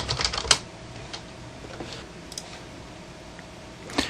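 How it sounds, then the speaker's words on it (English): Keys clatter on a computer keyboard as HTML code is typed by hand, a few sharp taps standing out among scattered softer keystrokes in a quiet room. "I'm going to get started here with typing some HTML out"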